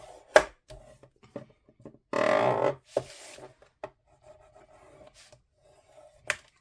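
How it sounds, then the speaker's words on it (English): Scrapbook paper trimmed for a beach-themed album: a single dry, rasping cut lasts under a second midway through. Soft taps and handling noises come before and after it in a quiet room. "Mine is a tiny bit long, but I'm just going to trim it"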